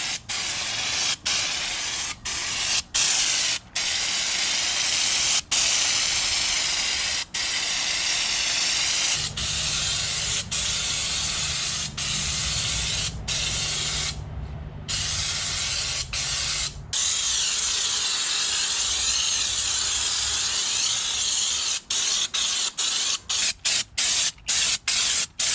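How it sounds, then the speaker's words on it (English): A spray gun applying Raptor bed liner to an airboat deck hisses loudly and continuously, broken by sharp clicks as the trigger is released, with a brief pause midway and a low compressor hum. "I just finished putting the bed liner spray on the deck"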